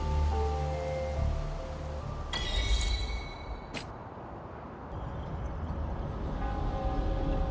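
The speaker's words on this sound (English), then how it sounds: "This rain, it's finally happening." Steady rain in the video game Wuthering Waves, a broad, continuous hiss of falling drops on surfaces, with a brief glassy clinking burst midway and low music underneath.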